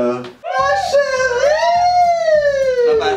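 A person vocally imitates a police siren during a guessing game, a loud close wailing tone that swoops up and then slides slowly down for about three seconds.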